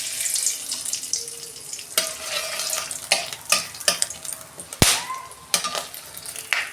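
Cinnamon, cardamom and cloves fry in hot oil in a pan, a hissing sizzle broken by sharp pops and crackles as the cardamom pods burst, with occasional stirring scrapes.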